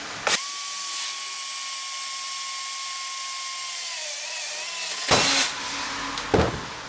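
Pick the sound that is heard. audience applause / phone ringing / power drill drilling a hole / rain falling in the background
power drill drilling a hole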